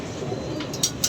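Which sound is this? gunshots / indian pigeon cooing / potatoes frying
indian pigeon cooing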